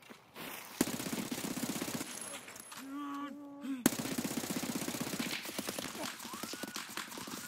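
Rapid bursts of automatic gunfire in the shooter game Escape from Tarkov, sharp repeated cracks in quick volleys, with a brief quieter gap and a tonal beeping sound partway through before the firing resumes.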